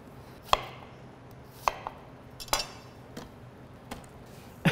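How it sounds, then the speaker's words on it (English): A knife chops fibrous garlic on a cutting board in a home kitchen during kimchi preparation, with about six sharp, separate knocks spaced irregularly over quiet room tone. "These are fibrous, so I might go chop it a little bit"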